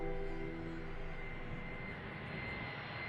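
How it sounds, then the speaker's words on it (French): A cargo plane arriving from Nairobi lands at Frankfurt airport, a loud steady aircraft engine roar with a sustained whine, continuous and close for the whole stretch, no voices. "Et l'avion cargo en provenance de Nairobi se pose à Francfort."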